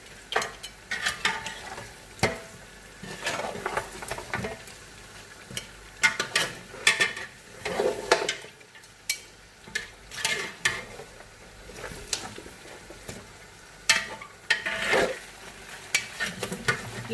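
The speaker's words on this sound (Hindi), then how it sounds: "अब पाए डाल के मज़ीद अच्छी तरह से भूनना है आपने" Mutton trotters (paya) frying in a pot, stirred with repeated rhythmic scrapes and clatters over a low sizzle, close and alone without talk.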